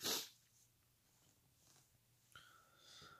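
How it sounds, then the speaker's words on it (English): A single short, sharp sneeze bursts out at the start, followed by quiet breathing and faint rustling in a hushed room. "Oh, I feel like I'm going to sneeze again."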